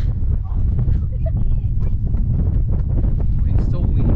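Strong wind buffets the microphone outdoors near rock statues in Hanksville, Utah, with a constant loud, low rumble and gusty roar throughout that masks everything else.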